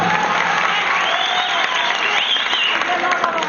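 An audience claps loudly and continuously for a children's dance performance, the dense applause holding steady throughout, with voices and cheering rising faintly over it.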